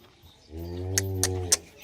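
A 25-plus-litre HF dairy cow, freshly calved for the second time, gives one long, loud, close moo lasting well over a second, with a few sharp clicks or knocks over it near the end.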